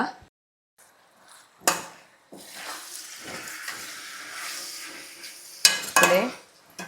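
Chicken dum biryani ingredients being stirred in a pot, with metal spoon scrapes and clinks against the pot over a soft sizzle, in bursts with short pauses and a couple of sharp knocks near the end.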